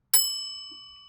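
A single bright bell ding sound effect rings out sharply and close, then its clear metallic tone slowly fades away alone.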